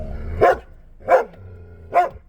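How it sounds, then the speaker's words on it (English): A dog barks three times, loud and close, each bark evenly spaced about a second apart, with quiet pauses between. "You gonna be a good dog?"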